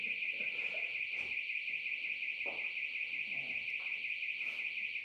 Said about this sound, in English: if we turn the lights off, the alarm's going to go crazy